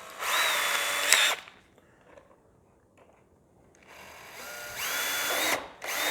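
A power drill bores a hole into a model F-15 Eagle jet in two whining bursts, the motor rising in pitch and cutting off, with a quiet pause between them.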